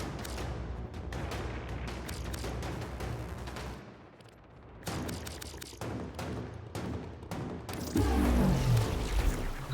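Fireworks going off in rapid, crackling bursts, a dense volley of pops and booms that thins briefly before resuming with a heavier rumble, with no talking over it.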